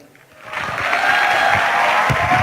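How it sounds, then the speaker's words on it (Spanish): Applause swells in after a quiet start and holds as a steady, full clapping from a sizable crowd at a church youth Easter gathering. "que se escuche un fuerte aplauso"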